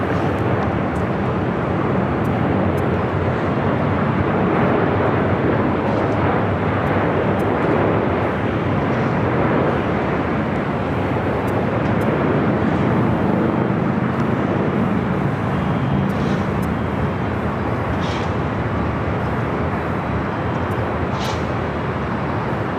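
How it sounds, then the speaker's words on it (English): An American Airlines Boeing 787-8 Dreamliner from Tokyo Haneda lands on runway 24 right at Los Angeles International Airport, a loud, steady broadband roar that holds unbroken for the whole stretch with no voices over it. "It's the flight coming in from Tokyo, Haneda, American 787-8 Dreamliner."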